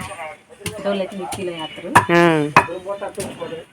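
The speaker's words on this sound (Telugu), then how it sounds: "మా అమ్మమ్మ అయితే అల్లం నూరుతుంది చూడండి అప్పట్లో లాగా" Ginger pounded by hand in the traditional way gives sharp thuds roughly every half second, heard under continuous nearby talking.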